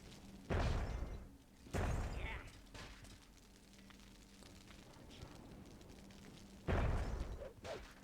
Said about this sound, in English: Big explosions from Garnish.